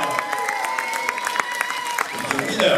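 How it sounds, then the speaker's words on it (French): Clapping from a crowd at the 2018 blood sausage fair in Mortagne-au-Perche, France, with scattered sharp claps under a sustained tonal background, moderately loud and continuous. "Tous ensemble, on les applaudit très fort."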